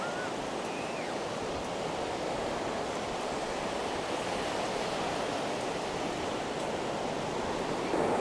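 Ocean surf on a beach with kite flyers around, a steady, dense roar of breaking waves mixed with wind, constant and fairly loud throughout, with no voices.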